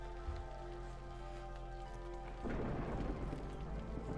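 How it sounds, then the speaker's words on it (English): Rain and rolling thunder in the city-builder game Against the Storm, a steady patter of rainfall with low rumbles that swell into a louder, denser downpour partway through, with no voices. "Oh, I hear thunder. That means we're about 30 seconds away from the storm"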